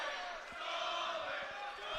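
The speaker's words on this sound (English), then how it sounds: "Crowd's asking for the stalling." Spectators at an Army versus Navy college wrestling match shout together, a loud sustained roar of voices demanding a stalling call against a wrestler who is not taking shots.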